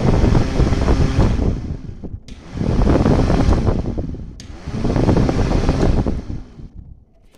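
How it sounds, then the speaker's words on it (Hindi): An air cooler's fan motor runs dry without water, a loud whooshing hum that surges and drops in roughly three cycles as it is switched on and off. "मोटर चला के दिखाता हूँ"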